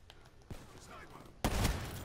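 A video game gunshot, a sudden loud broadband blast near the end, follows an earlier fainter crack, all over steady game ambience.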